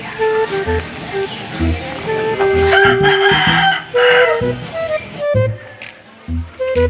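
A Bisaya rooster crows loudly and close in a morning farmyard, long drawn-out calls repeating over steady low-pitched ambient noise and scattered clucks, with no voices over the calls.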